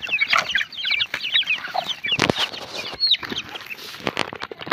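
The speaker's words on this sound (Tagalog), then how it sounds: "Ayan mga kaibigan, yung ating mga alagang sisiw." Pet chicks cluck and peep busily at feeding time, a dense run of high chirps and short clucks close by, with no talk over them.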